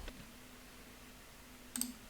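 A computer mouse clicks once or twice in quick succession near the end, crisp and close against a quiet hum.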